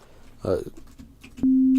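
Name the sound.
sine wave sub bass tone from Serum synthesizer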